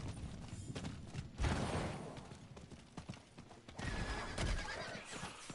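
Horse neighing and hoof clip-clops from a mount in Diablo 4, mixed in with steady game sound effects and music, with louder bursts at moments.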